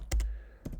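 A few quick keystrokes on a computer keyboard while an email address is entered, faint and close, two clustered clicks then a pause and another pair, no voices.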